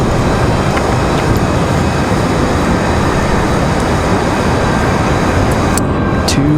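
Alaska Airlines flight 572 bound for Seattle departs Raleigh-Durham International Airport, a steady, broad jet engine roar holding at constant loudness from a distance throughout, with no voices.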